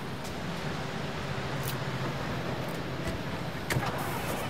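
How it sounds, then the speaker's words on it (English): A cement truck's engine idles steadily in the Construction Simulator 22 video game, a low continuous rumble with faint mechanical clicks on top, heard alone at moderate level. "We're getting our cement truck now."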